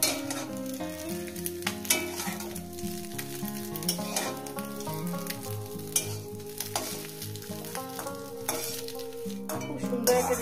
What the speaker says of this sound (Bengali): ডিমটাকে আমি এভাবে ভেজে নিয়েছি